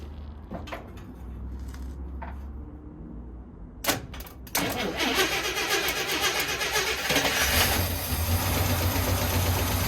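The engine of a 1972 International Harvester 1210 pickup truck cranks briefly, then catches and roars to life, running loud and steady with a rough, rumbling idle.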